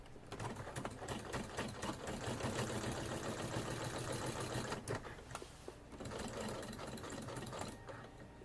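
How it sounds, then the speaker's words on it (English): A sewing machine tack stitches a seam, running as a steady fast mechanical whir close by for several seconds, with a brief break and a few clicks before it hums on again at a lower level. "Not top stitch though, because I have to be able to see what I'm sewing right there."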